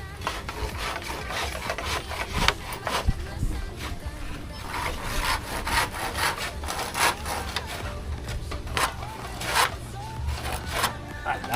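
Hand saw rasping through wood while a small nipa hut is built, a steady run of scraping strokes close by, with people talking over and between the cuts.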